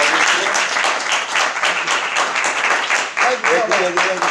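Conference audience applauding a guest speaker at an FMEA session in Florida, a dense, steady wash of many hands clapping throughout, with a voice briefly speaking near the end.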